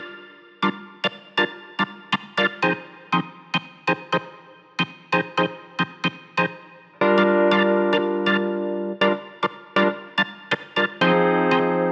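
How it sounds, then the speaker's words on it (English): Korg Triton Percussion BX3 organ preset jabbing short, slappy staccato chords over an electric piano in a funky Y2K house groove, close and clear with a steady rhythmic pattern and a denser sustained section near the end. "And this is playing like very short little slappy notes on top with that EP."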